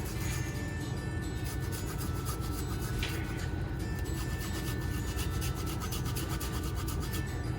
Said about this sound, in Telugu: ఆ తర్వాత జింజర్ ఇప్పుడు నేను కొంచెం గ్రేట్ చేసి వేసుకుంటున్నాను